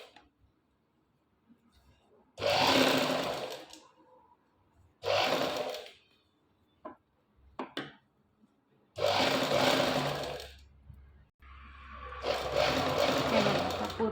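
A sewing machine stitches fabric piping in short bursts, four loud runs of a few seconds each separated by pauses with small handling clicks, close and alone.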